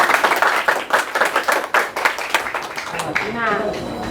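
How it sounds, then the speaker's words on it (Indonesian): A classroom audience claps in a quick, uneven patter for several seconds, with voices mixed in. "Berikan dulu aplaus."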